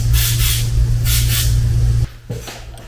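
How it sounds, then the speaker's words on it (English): Lubricant sprays onto a die used for flaring a Dodge Ram Cummins hydro boost hard line, two close, loud hissing bursts followed by a clunk and a quieter moment. "I'm going to lube this die up"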